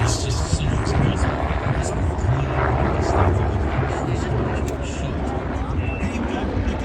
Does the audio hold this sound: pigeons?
no